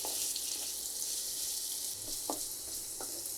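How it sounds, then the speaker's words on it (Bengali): Chopped onion sizzles steadily in hot oil for vegetable cutlets, a dense, even frying hiss throughout with a few faint stirring clinks near the end. "তেলটা গরম হয়ে গেছে এখানে আমি একটা পেঁয়াজ দিয়ে দিচ্ছি"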